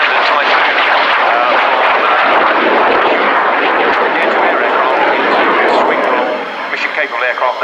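A Eurofighter Typhoon jet roars at the Fairford airshow, a loud continuous broadband engine rumble that holds steady and then eases slightly near the end, with someone talking over it.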